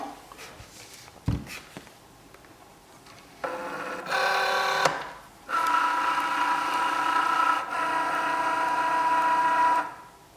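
A Cricut Joy cutting machine is opened and its motors whir in several loud, close bursts of steady mechanical hum, preceded by a sharp click and some handling noise.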